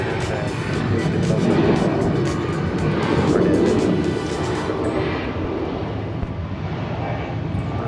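A Delta airliner landing on runway 26 right at Atlanta, a steady broad roar of jet noise that holds loud throughout and eases slightly near the end.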